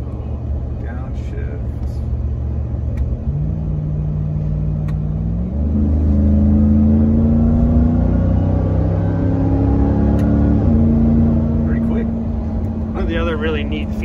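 A 2021 Ram 1500 TRX pickup engine drones loudly up close, its pitch stepping up in two jumps as the driver downshifts with the paddles, holding high before settling back down.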